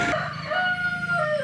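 A rooster crows once, nearby and clear, its strained, wavering tonal call running almost the whole moment after a brief sharp onset.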